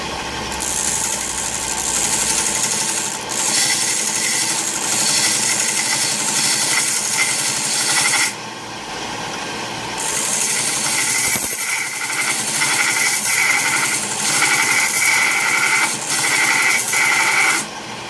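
A grinder works the back shoulder of a kitchen knife being restored, a loud continuous abrasive whir and rasp that cuts out briefly twice between passes and then resumes, close and steady, with no talking.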